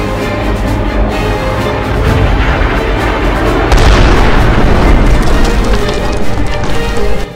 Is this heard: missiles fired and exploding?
yes